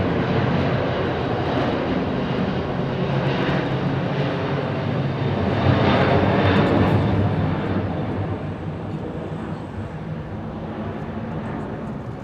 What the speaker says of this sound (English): Le Bourget flying display today is the A380 manufacturer's serial number 1